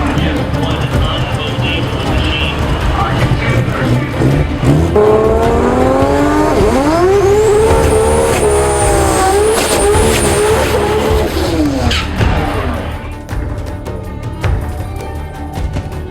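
A drag race car on a strip does tire burnouts on fresh tires, a loud sustained engine roar with rising revs and screeching tire squeal, close and continuous, easing off toward the end.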